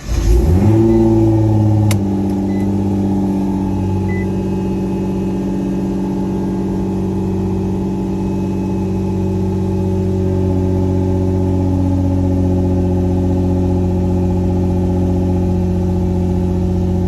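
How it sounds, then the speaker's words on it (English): A Nissan R35 GTR tuned to over 700 hp starts up with a loud burst, then settles into a steady, deep droning idle that stays loud and close. "The car's kind of loud back here."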